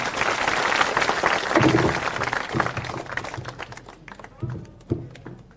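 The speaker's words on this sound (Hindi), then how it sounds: "आप लोग जोरदार तालियों से स्वागत कीजिए।" A village crowd at a rural gathering in Bihar claps loudly to welcome a speaker on a padyatra. The dense applause thins into scattered claps and taps, with voices mixed in.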